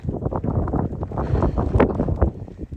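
Strong, cold gusting wind on an Appalachian Trail mountain path in snow buffets the microphone in loud, rumbling bursts, continuous and close, with no other clear sounds.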